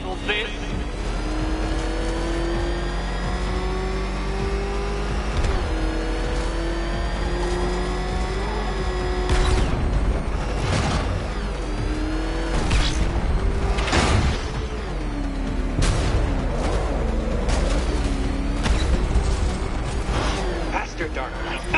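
Batmobile from the game Batman: Arkham Knight, its engine revving and racing with rising and falling pitch sweeps and mechanical clatter, loud and continuous, mixed with a voice talking over it.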